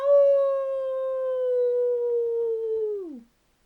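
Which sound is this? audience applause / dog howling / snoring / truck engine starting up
dog howling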